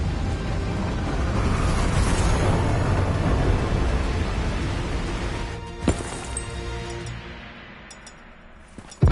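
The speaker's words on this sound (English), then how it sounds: "we have multiple explosions across the facility" Explosions across a facility in the video game Call of Duty Black Ops 3; a loud, rumbling roar that slowly fades, with a sharp blast near the middle and another at the very end, and no talking.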